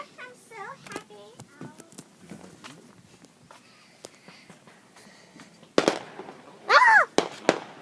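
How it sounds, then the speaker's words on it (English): Fireworks go off in loud, sharp bursts near the end, with a shrill whistling burst among the final bangs, after a quieter stretch of voices and footsteps. "there's fireworks over there"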